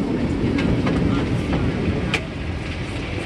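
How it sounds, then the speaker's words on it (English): A San Francisco trolley in motion carries its riders along with a steady, close rumble and rattle, with faint clicks and squeals over the continuous noise. "So we're on the train."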